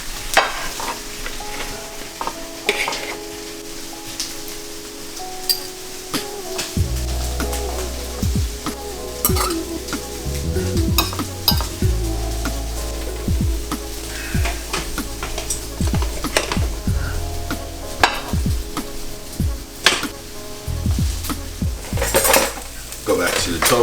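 Tofu with garlic frying in a pan on a stove for a stir fry, with a steady sizzle under repeated scraping, clinking and tapping of a utensil against the pan as the pieces are flipped, up close and without talk.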